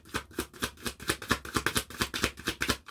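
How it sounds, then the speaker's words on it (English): Tarot cards are shuffled by hand in a quick, even run of about a dozen crisp riffling bursts, close and moderately loud with no voices. "I just start shuffling there"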